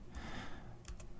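A few faint, quick keystrokes tap on a computer keyboard in a quiet room.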